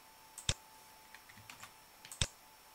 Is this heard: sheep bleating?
no